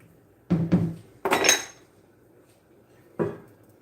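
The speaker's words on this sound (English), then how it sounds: "So I'm going to give it a stir" A spoon scrapes and clanks against a pot of simmering salsa chicken and rice casserole in a home kitchen, with a few sharp metallic knocks in quick bursts, close by and without talk.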